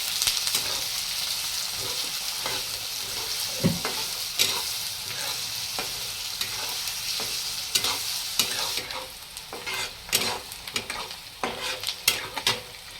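Finely chopped onion fries in a pan for baingan bharta, a steady close sizzle broken by repeated utensil scrapes and clinks that grow busier and more uneven toward the end.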